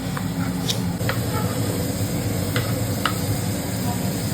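Chicken stew ingredients with green chili are stirred in a pan over heat, a steady sizzle and hiss underlying a few scattered scraping clinks of the utensil against the pan.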